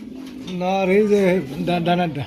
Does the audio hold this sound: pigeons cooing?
yes